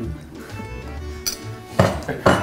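A fork cuts into a piece of hot pepper baklava made with butter and syrup, giving a few crisp crackles and metallic clinks against a plate, close up amid quiet room noise.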